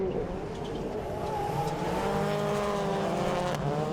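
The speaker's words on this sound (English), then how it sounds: "Hustles the car through the hairpin" At Lydden Hill, a race car works through the hairpin, its engine note rising and falling with a faint tyre scrub as it brakes and accelerates out, heard at moderate distance.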